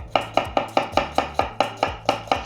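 A knife chops potato into thin strips on a cutting board for Chinese silk potato, giving about ten quick, evenly spaced crisp cuts, each a sharp close knock with a short ring.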